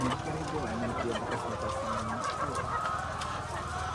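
Several free-range chickens cluck continuously nearby, overlapping in a busy, noisy farmyard.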